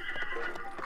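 A horse in the video game Zelda: Breath of the Wild gives a short neigh or whinny with faint hoofbeats beneath it, close and fairly loud over game ambience.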